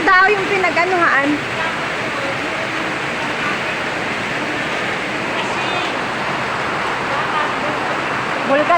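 Heavy rain pours down while an overflowing irrigation canal rushes, making a steady broadband roar that stays loud and constant throughout.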